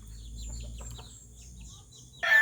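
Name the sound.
chickens clucking while being fed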